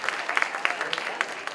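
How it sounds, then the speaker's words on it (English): An audience applauds with scattered, uneven claps, a moderately loud burst of clapping that comes through clearly. "Please give them another round of applause."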